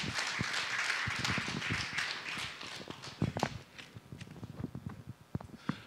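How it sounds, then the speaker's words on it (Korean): Audience applause at a church workshop, a burst of many hands clapping that thins into scattered individual claps and fades over several seconds, moderately distant. "큰 박수 부탁드립니다."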